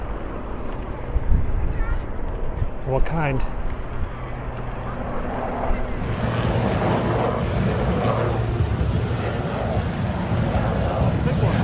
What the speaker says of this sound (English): Got a helicopter coming.